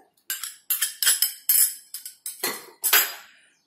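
A whisk or spoon repeatedly clinks and scrapes against a bowl while butter is mixed into chocolate cake batter, about ten sharp metallic strokes in an uneven rhythm, close and clear, with no talking.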